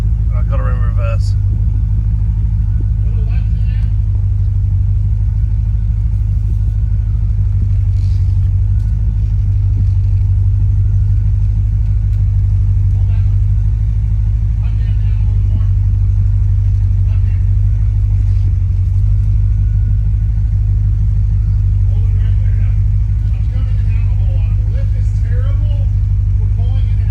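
A 1984 C4 Corvette engine runs in reverse gear with a steady, loud low rumble throughout, with a voice speaking intermittently over it.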